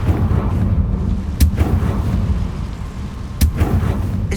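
A Confringo blasting spell explodes in Hogwarts Legacy, with two sharp, loud bursts about two seconds apart over a dense, rumbling low-frequency background.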